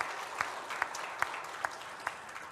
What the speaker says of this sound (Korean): 하나님께 영광의 박수 들려줍시다.